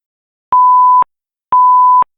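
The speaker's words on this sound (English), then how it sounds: "Medical alert." A mill's medical alert alarm: two identical half-second electronic beeps sound at an even pace, clean and steady in pitch, with silence around them.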